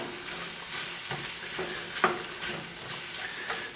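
Ham, onions and asparagus sauté quietly in a pan. A soft, steady sizzle is broken by a few scraping stirs, close but faint, and no one speaks.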